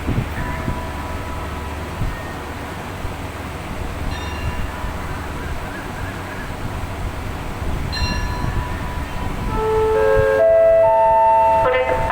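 A train pulls out of Ratchaburi station in Thailand, a steady low rumble of wheels and engine throughout, with a long tonal horn-like whine rising near the end as it gets louder.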